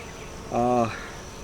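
A honey bee buzzes briefly past close by at a hive, a short droning hum lasting under half a second over quiet outdoor background.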